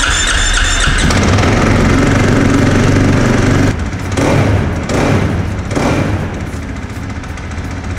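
A motocross motorcycle engine roars loudly and steadily up close, then its pitch drops and it falls back to a rougher, pulsing idle. Someone says a few words over it.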